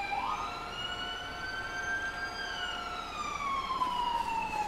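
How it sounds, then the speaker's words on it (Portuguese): Wailing ambulance siren at an emergency scene involving a fire-brigade Magirus truck in Santa Catarina, Brazil, rising and falling steadily and fairly close, with no talk over it. "A ambulância já chegou."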